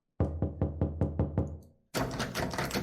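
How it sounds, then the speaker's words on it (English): Heavy fists pound a door in a horror video game, seven loud evenly spaced knocks in quick succession, followed by a burst of broadband noise. "Someone was pounding on the door."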